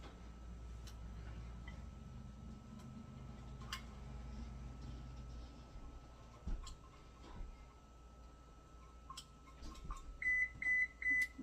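A kitchen oven signals it has finished preheating with a short series of three or four high electronic beeps near the end, after quiet kitchen clatter.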